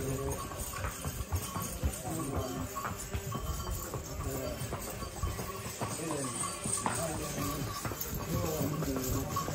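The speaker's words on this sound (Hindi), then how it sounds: "अनुपम तेरी घोड़ी का नाम क्या है" Horse hooves clip-clop steadily on the trail to Vaishno Devi, a close rhythmic clatter that keeps going under people talking.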